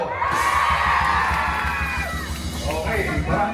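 Shouting and cheering from a campaign rally crowd in a Pasig City barangay, many overlapping voices with excited yells and whoops, loud and continuous over a low rumble.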